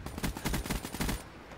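Rapid machine gun fire in the Black Ops 3 beta shooter, a steady run of evenly spaced heavy shots lasting over a second, loud and close, then cutting off abruptly.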